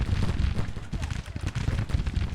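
Rapid, irregular thuds and crackling booms of an artillery bombardment in Grand Tactician: The Civil War, heavy low-end impacts piling up closely in a short burst.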